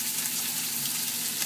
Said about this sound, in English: Let it sear. Just like cooking a burger.